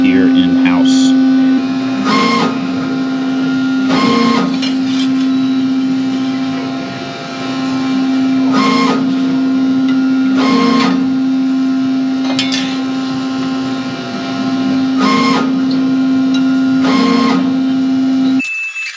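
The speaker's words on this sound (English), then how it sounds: "we use our 6-axis CNC press brake to bend them up right here in-house" A 6-axis CNC press brake bends laser-cut metal pieces in a workshop, with a constant loud machine hum and short whooshing bends recurring about every two seconds, close and steady.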